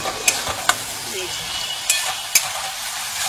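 Spice masala stir-fried in hot oil after poppy seed paste water is added, with a steady low sizzle and a few sharp scrapes of a spoon against the pan.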